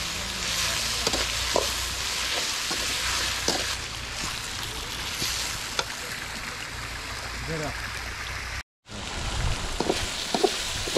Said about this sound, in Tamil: இஞ்சி பூண்டு வெங்காயம் தக்காளி எல்லாம் நல்லா வதங்கிடுச்சு